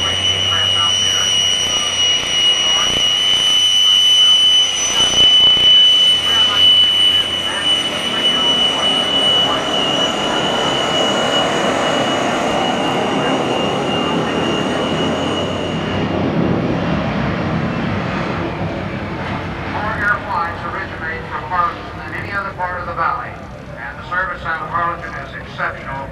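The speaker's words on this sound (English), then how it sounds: "He's going to fly the quick-wing aircraft out there." Propeller aircraft at a 1987 Confederate Air Force airshow in Harlingen, a steady loud engine drone that fades and thins toward the end, with an announcer talking over it.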